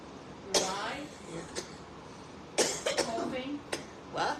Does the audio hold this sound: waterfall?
no